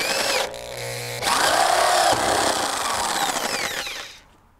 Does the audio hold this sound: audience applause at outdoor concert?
no